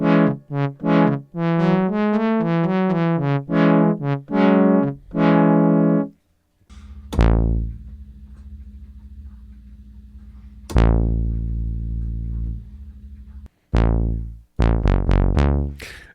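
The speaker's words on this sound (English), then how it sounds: "This is a giant fat bass sound." An Arturia MicroFreak synth plays a fat, warm Minimoog-style bass patch, first a quick run of notes, then deep sustained low tones and short stabs with silent gaps, loud and close.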